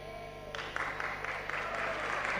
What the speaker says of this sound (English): Excellent people, clap hands.